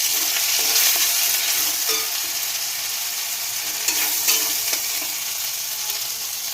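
Green pea paste stirred in a pan over heat, a steady soft sizzle with faint scraping of the spatula throughout, close and continuous with no talking.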